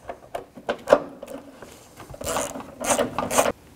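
Headlight bolts being reinstalled on a 1997-2004 Dodge Dakota, a series of small clicking and ratcheting taps close by, growing into quick bursts of ratcheting near the end.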